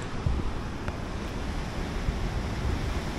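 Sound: strong wind and ocean surf on Tenerife coast

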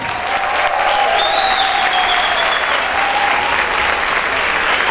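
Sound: audience applause for the band

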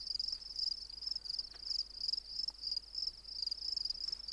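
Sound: crickets chirping in the video game The Forest

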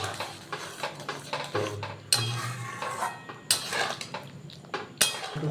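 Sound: stirring spice mix in a cooking pan

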